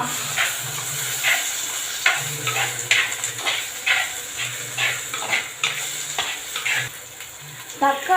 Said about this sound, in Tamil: அடுத்தது தக்காளி உப்பு சேர்த்துக்கலாம். கொஞ்சம் நல்லா கலரி விடுங்க.